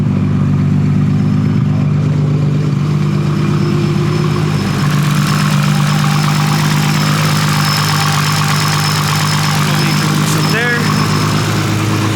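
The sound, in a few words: Nissan Skyline R32 GTR RB26 engine idling after oil change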